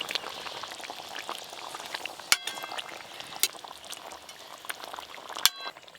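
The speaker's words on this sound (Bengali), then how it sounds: "ঝোল ফুটে গেছে" Hilsa fish curry sauce simmers in a pot, bubbling softly and continuously at low volume, with a few sharp clinks rising above the quiet boil.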